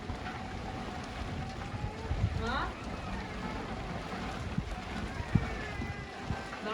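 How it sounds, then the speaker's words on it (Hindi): Heavy rain and gusting wind around a village mud house make a steady, dense hiss with occasional louder drips and knocks, while a person briefly speaks. "बहुत ज्यादा तेज बारिश हो रही है।"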